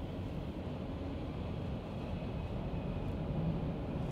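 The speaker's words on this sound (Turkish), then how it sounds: "Yanında bir tane kamyon var." Steady low rumble of traffic noise inside a Nissan Qashqai e-POWER, a truck idling or rolling close alongside, with a continuous broadband drone and no voices.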